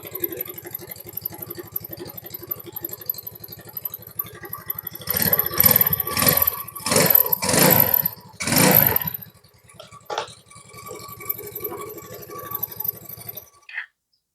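A Yamaha Mio motorcycle engine with a leaking fuel tap is kick-started several times in loud bursts, then catches briefly before dying; a low idle-like hum runs underneath throughout.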